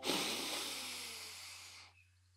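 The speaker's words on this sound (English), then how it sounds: "Take a deep breath in." A long, airy breath is drawn in slowly and steadily, soft and close, fading out after about two seconds.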